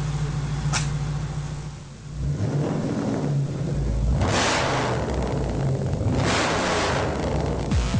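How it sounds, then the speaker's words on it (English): A Holden Efijy's engine revs as the accelerator is pushed while parked, a steady close rumble swelling into two strong rising roars before easing back. "I reckon I could sit here all day and just push the accelerator"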